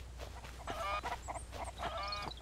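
Chickens cluck in the Mist Survival video game, a few short bursts of clucking close by over a low ambient background.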